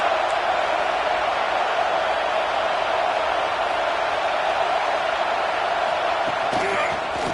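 Stadium crowd at a college football game, Florida State versus South Carolina, a steady loud roar of massed cheering and noise that holds unbroken throughout.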